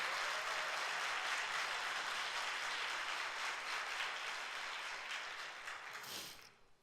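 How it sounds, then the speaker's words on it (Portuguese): Church congregation applauding during a Sunday worship service, a dense, steady roar of many hands that holds strong for several seconds, then thins and fades out at the end. "Pode aplaudir ao Senhor"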